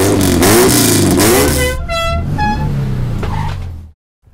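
A 1959 Austin Healey's engine drones loudly and close, its pitch rising and shifting with revs before cutting off abruptly at the end.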